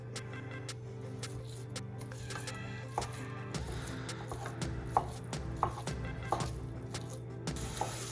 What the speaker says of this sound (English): I'm gonna start browning this and breaking it up